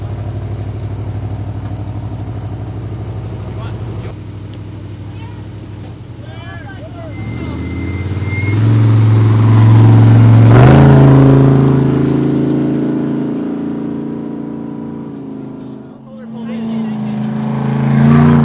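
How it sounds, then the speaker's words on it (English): A race truck at a desert off-road race pit stop revs its engine and pulls away, rising into a loud, roaring climb before fading and surging again. "truck just took off"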